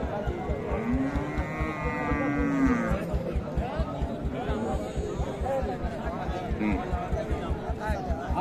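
A six-tooth Sahiwal cow moos in a long, low call at a village cattle market in Dinajpur, near and loud, while people chatter and a rhythmic thumping noise runs underneath.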